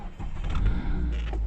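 Mazda MX-5 1.5 SE-L convertible engine starting, a brief crank that catches into a steady low idle rumble close by, with no talk.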